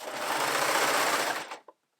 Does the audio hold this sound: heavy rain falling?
no